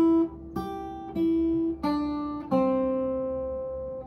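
Opening line of Freight Train picked on acoustic guitar in Piedmont style, a handful of single ringing notes played slowly and deliberately, each sustaining into the next, close and fairly quiet with no talking.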